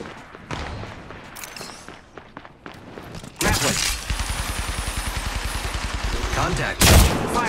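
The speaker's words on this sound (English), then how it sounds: "Opening fire on the enemy" Gunfire in Apex Legends Mobile, a rapid automatic burst with dense even rhythm of shots and clinks, preceded by scattered footsteps and smaller impacts, ending in a louder blast.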